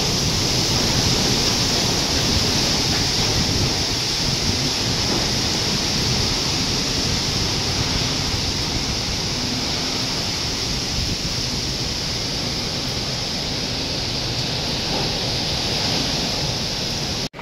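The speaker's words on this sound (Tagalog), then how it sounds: "Pabalik ang hangin, mas malakas." Strong storm wind roars steadily and loudly for the whole stretch, a dense broadband rush with no breaks, as gusts sweep around a house while neighbours' roofing sheets are being torn loose.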